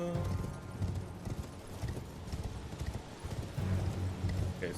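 Hooves of a horse galloping in the video game Elden Ring, a quick, steady clip-clop rhythm close up, carrying on for several seconds with a faint snort or whinny and no talk.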